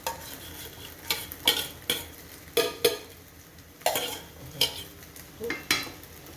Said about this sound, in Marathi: सगळे आपले भांड्यातले राहिलेले जे तांदूळ आहेत ते सगळे व्यवस्थित निपटून घ्यायचे आहेत